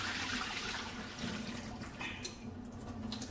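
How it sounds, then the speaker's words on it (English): Water pours and trickles steadily out of a salad spinner holding washed broccoli, a continuous close splashing drain with no voices. "So I'm just gonna go ahead and drain the water off of it."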